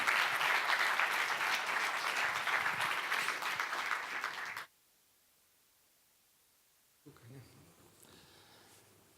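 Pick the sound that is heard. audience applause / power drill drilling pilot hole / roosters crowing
audience applause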